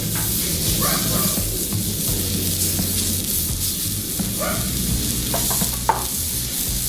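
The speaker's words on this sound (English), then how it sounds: "I'm going to go ahead and give that pork chop a flip." A pork chop sizzles and fries on a 36-inch Blackstone griddle, a steady broadband hiss running throughout with a few faint scrapes and clicks.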